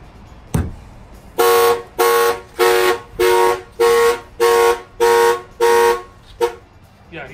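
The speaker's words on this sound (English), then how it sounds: "if the alarm fires off" A Buick Grand National car alarm blares in a steady pattern of about seven evenly spaced loud honks, preceded and followed by a short chirp.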